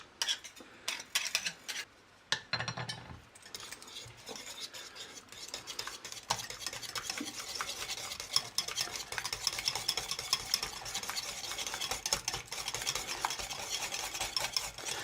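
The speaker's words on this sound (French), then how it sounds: "Et nous allons monter ça presque comme une mayonnaise en fin de compte." A hand whisk beats extra virgin olive oil into a cold mayonnaise-like emulsion for Caesar salad. A few clinks at the start give way to continuous, fast, quiet scraping against the bowl, with no voices.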